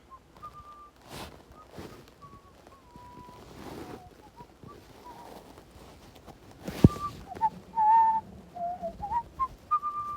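A person whistles a short, wandering melody in the audio game Frequency Missing, clear tones in bursts over faint ambient background with a sharp click partway through.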